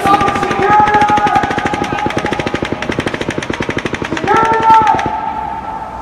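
Sustained automatic rifle fire from the Las Vegas Mandalay Bay shooter, rapid loud bursts rattling continuously for several seconds with echoing report, briefly pausing then resuming before fading out.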